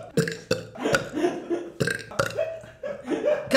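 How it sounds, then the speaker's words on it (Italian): A person belches loudly several times in a row, a series of throaty burps in quick irregular rhythm, close to the mic during a blindfolded taste-guessing game. "Prova a ruttare."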